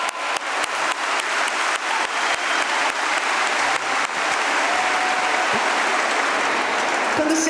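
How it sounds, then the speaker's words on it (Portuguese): Sustained audience applause fills a hall after a sung line at a religious talk, dense steady clapping from many hands, loud and continuous throughout with no talk over it. "Aplaude o Senhor."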